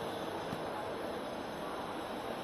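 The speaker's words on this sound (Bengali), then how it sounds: "গাড়ির আওয়াজ তো সারাক্ষণ হচ্ছে গাড়ি যাচ্ছে আসছে" Trains move through Kharagpur railway station, making a continuous, moderately distant rumble with no clear peaks and no voices.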